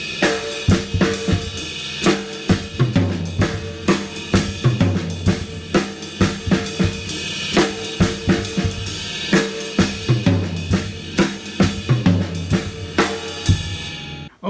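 Swing-style drum kit groove with a steady pulse of bass drum hits, accented hi-hat quarter notes and cymbal wash, played loud and close with no talking over it.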